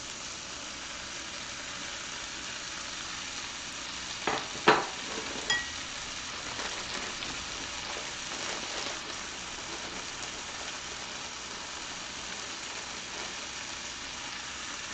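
Shrimp and corn fry in a pan with a constant close sizzle and hiss, a few sharp clatters as food drops in near the middle, and then steady frying.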